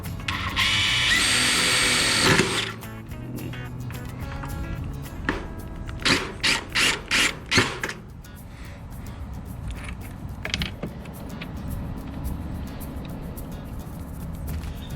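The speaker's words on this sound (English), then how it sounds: "Let me add a couple more screws to this." A power drill drives screws into an outdoor gate, giving a loud sustained whir at the start, then several short bursts of drilling in quick succession, followed by quieter rattling and handling noises.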